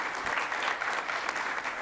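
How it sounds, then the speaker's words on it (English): Conference attendees at a Spinnaker Summit session give a short, steady round of applause, a continuous dense patter of many hands clapping at moderate loudness with no pauses. "Can we get a round of applause if everybody has enjoyed their time so far?"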